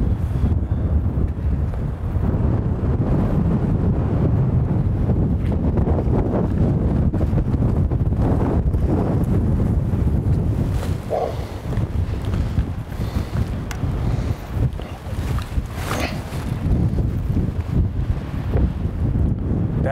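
Strong wind buffets the microphone continuously during an elk bow hunt in Oklahoma, a loud, rumbling roar that surges and dips without pause.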